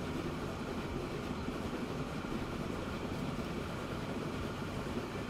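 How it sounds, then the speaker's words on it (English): A passenger train passing in Transport Fever 2, a steady broadband rumble and rolling rail noise at constant level throughout, without pauses or voices. "Oh, there's one of the passenger trains."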